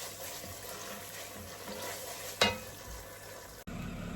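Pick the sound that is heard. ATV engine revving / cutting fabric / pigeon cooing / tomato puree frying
tomato puree frying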